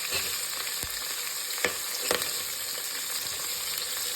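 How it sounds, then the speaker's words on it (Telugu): Cumin seeds, green chillies and onion frying in hot oil, a steady bright sizzle throughout with a few sharp pops and crackles as pieces are stirred, close and alone with no voices. "ఇవి వేగుతుంటాయి కదా, ఉల్లిపాయ ముక్కలు వేసుకోవాలి."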